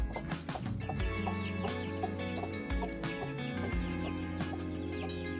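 Young backyard chickens, including a small bantam hen, cluck and chirp softly in a coop, with several short calls scattered over a faint steady background hum.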